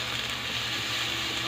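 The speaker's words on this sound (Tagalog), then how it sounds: "Gisahin na natin yung kamatis." Tomatoes sautéing in a pan for tinola chicken soup, giving a steady, close, even sizzle with a faint hiss of frying throughout and no talking.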